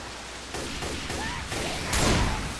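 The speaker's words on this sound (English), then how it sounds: "stop shooting me" Video game gunfire sounds as a few sharp, noisy bursts, with a heavier volley near the end, all at a moderate level with no talking.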